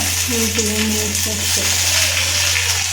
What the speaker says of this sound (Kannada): ಬೆಳ್ಳುಳ್ಳಿ ಕಾಯಿ ಶುಂಠಿ ಪುದೀನ ಇದೆಲ್ಲ ಫ್ರೈ ಮಾಡ್ಕೋತಾ ಇದ್ದಾಳೆ